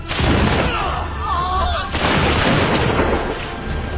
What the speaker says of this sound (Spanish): Preparan sus fusiles Broadbecks y disparan contra los colonos.